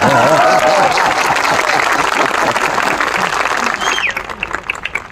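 An audience at an event in Udaipur applauds loudly and continuously, a dense wash of clapping that tapers slightly toward the end.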